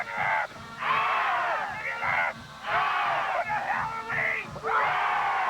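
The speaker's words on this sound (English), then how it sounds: "let you listen to a little cheering of the Roaring Fork Ram fans" Roaring Fork Rams fans cheer at a 1985 state championship football game, loud high-pitched yells and screams rising in repeated bursts from a crowd, with brief dips between surges.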